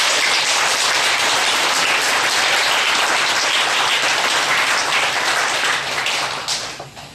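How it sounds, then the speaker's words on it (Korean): A church congregation gives sustained, loud applause for the Zion choir after its hymn, clapping densely and evenly before tapering off near the end. "사람에게 우리 박수로 한번 격려했으면 좋겠습니다"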